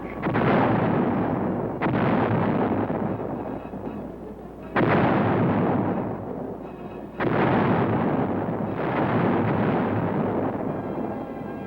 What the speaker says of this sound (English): At first, the 11th Armored Cavalry Regiment was equipped with self-propelled 105-millimeter howitzers